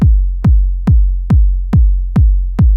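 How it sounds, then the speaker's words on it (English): A long-tailed dub techno kick drum from a sample pack thumps seven times in a steady, evenly spaced pulse, each hit a loud low boom with a short click that decays smoothly into the next. "So then I had my kick drum track, which sound like this."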